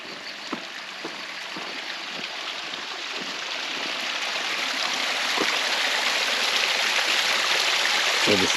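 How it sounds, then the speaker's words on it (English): Spring water runs toward a pond in a steady outdoor rush that grows slightly louder over time, with soft scattered taps and a faint voice now and then. "This is the spring that leads to the pond"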